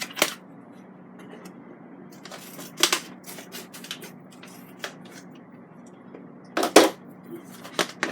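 Scissors snip open a waterproof resealable food pouch, sounding as close, crisp plastic clicks and crackles scattered over several seconds, one louder rustling cut near the end.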